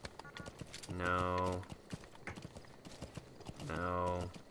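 Horse hooves clip-clop in the video game Metal Gear Solid 5, a quick rhythmic patter of light clicks broken by two longer tonal cries, fairly quiet throughout.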